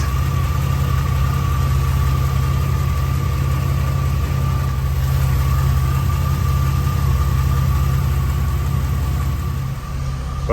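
A Jeep TJ engine idles steadily and close by after a radiator replacement, a constant low rumble with a droning hum, unchanging for the whole stretch.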